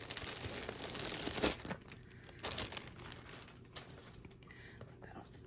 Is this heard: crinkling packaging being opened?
yes